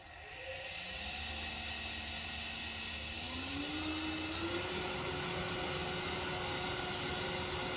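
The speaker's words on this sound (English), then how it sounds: "Maybe I'll start at 2000 RPM for now, and then just slowly advance the workpiece into the cutter." A wood lathe spinning at about 2000 RPM while a threading cutter is slowly advanced into a wooden box workpiece, giving a steady loud whirring drone with a tone that rises partway through and then holds.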